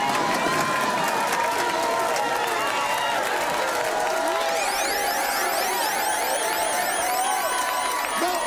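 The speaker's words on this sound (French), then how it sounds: "Fait qu'on va y aller par applaudissage." A studio audience votes by applause in a comedy show, with a dense, loud, continuous clapping and crowd noise that swells throughout.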